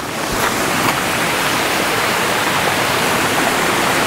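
Steady broadband rush of a flowing river beside a campsite at Draco Nature Camp in Perak, Malaysia, loud and continuous from start to end with no talk over it.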